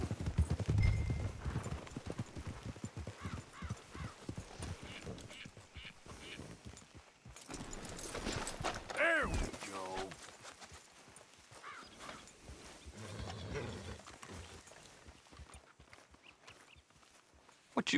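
Steady clip-clop of horse hooves in the video game Red Dead Redemption II plods along over a busy background, with a brief whinny partway through.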